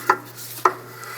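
Rear brake pads on a 2014-2019 Toyota Highlander barely touching the rotor as the wheel is turned by hand, giving two faint, brief scrapes about half a second apart in an otherwise quiet setting.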